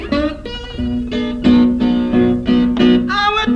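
An acoustic guitar plays a steady, rhythmic delta blues pattern with a piano-like feel, close and clear, with regular strummed chords.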